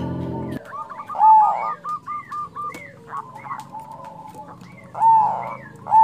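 A zebra dove of the black cemani variety cooing up close, repeated rolling coo phrases in a steady rhythm with a couple of louder, fuller calls, and no voices.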